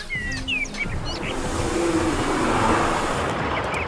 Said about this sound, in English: That bird's still just screaming at us though.